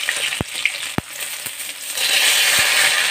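Fish fries in oil in a pan between high and medium heat, a bright steady sizzle with several sharp utensil taps early on and the hiss swelling louder after the midpoint.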